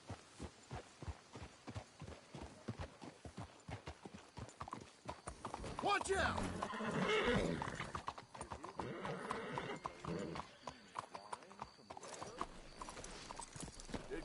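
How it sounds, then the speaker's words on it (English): Horse hooves clip-clop steadily in Red Dead Redemption 2, slowing as the horses are brought to a halt, with a brief whinny and a voice speaking over the hoofbeats. "Let's hitch the horses up ahead."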